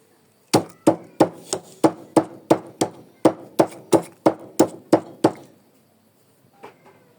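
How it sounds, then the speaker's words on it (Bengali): Chilies crushed with salt on a grinding stone for a banana mash, about a dozen sharp, evenly spaced pounding strikes close up, then a pause and two faint knocks. "এখন আমি মরিচ কয়টা ছেঁচে নিব"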